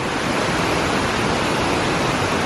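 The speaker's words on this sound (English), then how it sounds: "look what it is, another waterfall" Tasmania's tallest waterfall roars as a steady, dense broadband rush, constant and loud throughout with no voices over it.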